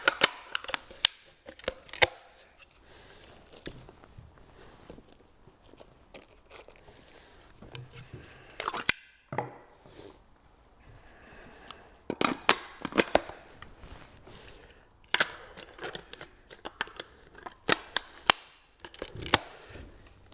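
Browning Heritage and Miroku MK11 shotguns being handled and assembled, with sharp metallic clicks, knocks and clacks of parts locking together, scattered irregularly and close by.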